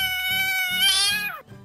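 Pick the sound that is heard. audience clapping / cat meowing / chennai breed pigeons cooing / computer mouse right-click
cat meowing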